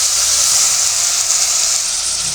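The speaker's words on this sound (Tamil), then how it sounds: "வதங்கிடுச்சு கறியை போட்டுக்கலாம்" Meat drops into a pan of sautéed tomatoes, setting off a steady, close sizzling hiss that carries on evenly without any talk.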